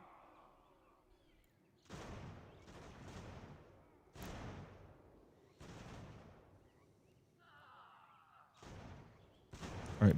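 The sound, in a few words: musket gunfire in Ultimate General: American Revolution video game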